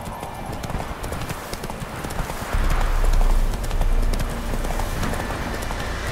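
In The Witcher 3, a horse gallops with rapid, rhythmic clip-clop hoofbeats that stay prominent and close, while a low rumble swells in the middle and faint ambient game sound runs underneath.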